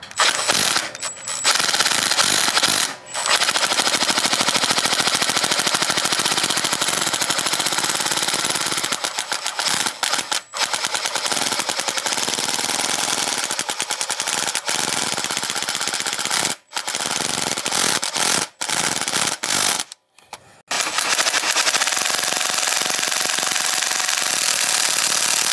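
A power tool fitted with an oil filter bit hammers at a stuck oil filter in a loud, continuous rapid rattle, broken by a few brief pauses before a final short burst.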